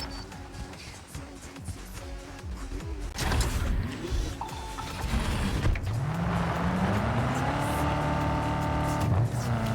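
Engine of the 640 TS car in Cyberpunk 2077, idling low then revving up with rising pitch as it pulls away, loud and close, with a steady drone and no talk.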